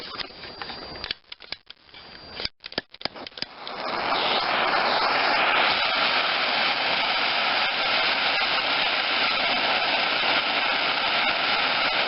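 A torch heats thick steel around the threaded section of a Mighty Mac Mackissic compost grinder's chipper knife blade. After a few clicks and brief gaps, a loud, steady roaring hiss holds for the rest of the clip.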